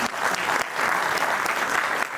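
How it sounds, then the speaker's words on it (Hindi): Brief burst of enthusiastic clapping from a crowd, dense and steady throughout. "जोरदार तालियां इन दोनों के लिए"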